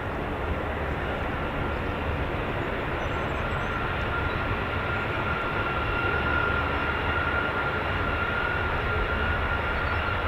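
A US Air Force KC-135 Stratotanker at RAF Mildenhall roars steadily on takeoff, a loud, broad, unbroken jet rumble holding for ten seconds without letup.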